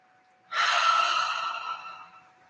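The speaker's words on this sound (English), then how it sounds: "you take 3 conscious deep breaths" A single deep, deliberate breath taken during a guided meditation. It begins with a sudden breathy rush, then a long airy exhale slowly tapers away, close and clear, with no talking.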